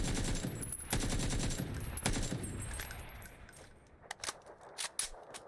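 Rapid automatic gunfire in the PUBG video game, dense bursts of shots for about the first four seconds, then a few sparse, sharper single cracks near the end, all fairly loud with no talking.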